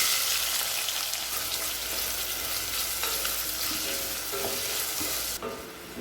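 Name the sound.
onions sautéing in a pan for Tamil egg curry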